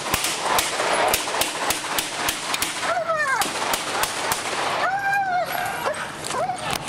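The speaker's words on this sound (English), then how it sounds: "you can hear some of those gunshots" Police officer-involved shooting footage carries a rapid series of sharp gunshot cracks at irregular intervals, loud and steady throughout, with a dog yelping and whimpering among them.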